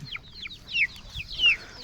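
Roosters and hens cluck and squawk nearby at a poultry farm in short, high, choppy calls, several overlapping over a quiet background.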